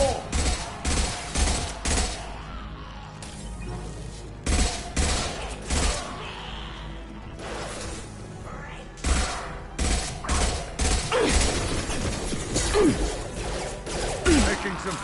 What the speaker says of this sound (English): Taking some fire, Shepard.